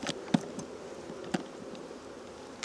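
Honey bees buzzing around beehive frames while feeding on fondant, a steady low hum with a couple of sharp close knocks, no voices.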